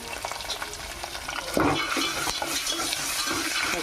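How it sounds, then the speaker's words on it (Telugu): Spices with turmeric fry in a pan, a steady crackling sizzle with a sharper burst partway through and soft scraping stirs throughout, fairly quiet and with no voices. "పచ్చి వాసన పోయేదాకా ఫ్రై చేసుకుందాం."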